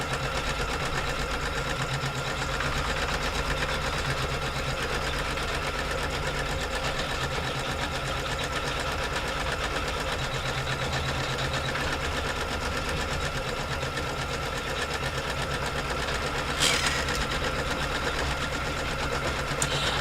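A sewing machine stitches out an applique placement line, a steady, continuous mechanical whirr with an even rhythm, close by and moderately quiet, with no talking.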